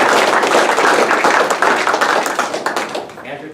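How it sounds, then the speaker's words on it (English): A small group claps after an outdoor parachute demonstration, with dense, close handclaps sustained for about three seconds before tapering off at the end. "How about a round of applause?"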